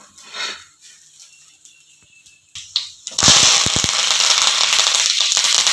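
Mustard seeds and urad dal crackle in hot oil, starting with a few sparse pops and then bursting into a loud, continuous sputtering hiss with sharp crackles up close.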